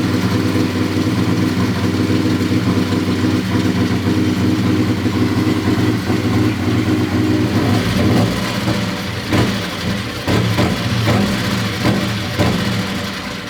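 Turbocharged 670cc engine of a Harbor Freight drag rail, running on nitro methanol, drones steadily on a dyno at close range, a loud sustained mid-pitched roar with a few uneven throttle blips near the end.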